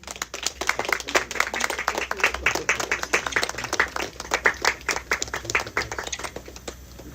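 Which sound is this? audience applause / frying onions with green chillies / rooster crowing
audience applause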